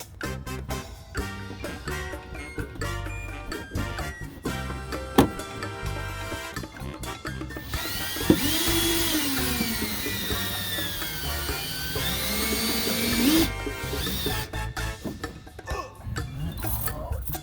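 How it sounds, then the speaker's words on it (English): A power drill whirs in bursts, then runs longer with its pitch rising and falling as it bores a hole for rock guards on a Dodge Challenger Hellcat, sharp clicks scattered between. "I am going to drill it from this side since I already have a hole there"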